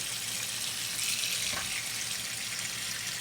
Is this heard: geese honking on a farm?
no